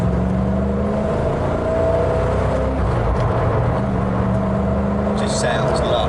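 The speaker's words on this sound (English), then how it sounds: "Love V8 noises." A 1985 Porsche 928 widebody's V8 hums and rumbles steadily from inside the car while driving, with road and cabin noise around it and a voice talking over it.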